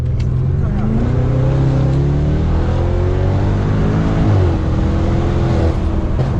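A Stage 2 turbo BMW M550 engine drones loudly and continuously from inside the car, pitch rising and sliding through revs and a gear change, with no talk over it.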